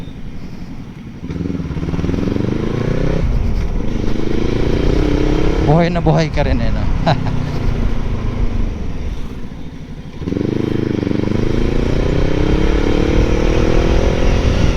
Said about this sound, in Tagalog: sarap din ng may magandang tunog na motor eh